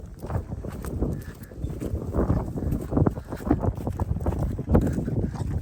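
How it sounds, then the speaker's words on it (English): Strong wind gusts across a farm, buffeting close to the microphone in uneven low rumbling bursts that rise and fall throughout. "It's very, very windy today."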